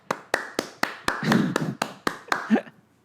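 A few slow, sharp claps ring out one by one, about eight in total, at a house in Abbotsford, BC, while a voice talks underneath.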